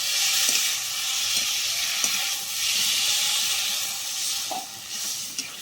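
Steamed elephant foot yam stems are stir-fried in a pan, a steady close sizzle broken by a few light scrapes and taps of the spatula as they are tossed.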